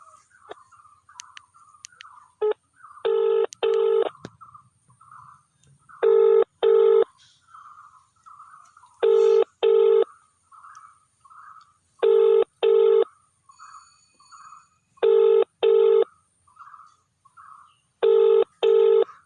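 A mobile phone call starts with quick dialing tones, then a ringback tone repeats in regular double bursts, each pair separated by a few seconds of quiet, with no answer.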